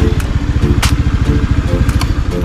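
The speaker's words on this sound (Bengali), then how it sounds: "বাইক এখানে পার্ক করছি" Motorcycle engine idling close by in a parking area near Pattaya, Thailand, a loud, steady chugging pulse with brief clicks.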